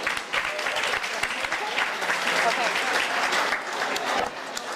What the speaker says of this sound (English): Give these girls a round of applause.